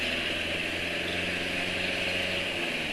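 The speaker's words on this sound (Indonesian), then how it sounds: "Suara mesin wis kasar." A motorcycle engine idles steadily at close range, its rough, buzzing drone holding even with no pauses.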